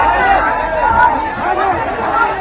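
Murmuring voices from a large crowd at an election rally in Bihar fill the air as a continuous, moderately loud babble.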